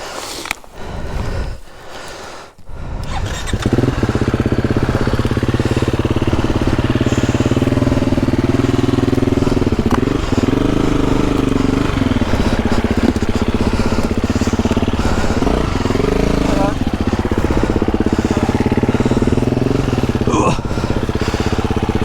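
A KTM 350 enduro motorcycle rides hard off-road, its engine droning steadily and loud with revs rising and dipping, and voices talk briefly at the start.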